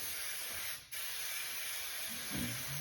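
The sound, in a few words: spraying 3M spray adhesive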